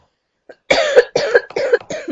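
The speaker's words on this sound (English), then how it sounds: "That was the first time I've coughed, really." Person coughing close by: a brief throat sound followed by four harsh, loud coughs in quick succession against silence.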